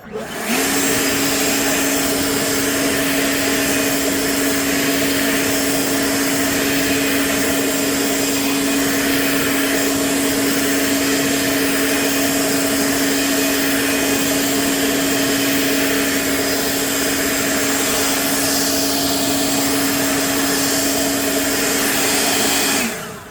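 Running on its regular setting, an EGO 1000 CFM battery leaf blower gives off a constant loud whine over a dense airy roar, steady and close for the whole stretch, with no voices.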